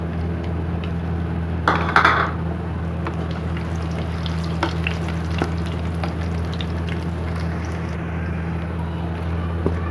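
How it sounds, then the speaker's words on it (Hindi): Chopped garlic and ginger with cumin fry in oil in a wok, giving a steady low sizzle throughout, with a brief louder stir or scrape near the start and a few faint utensil taps. "लहसुन अदरक फ्राई हो गया थोड़ा सा,"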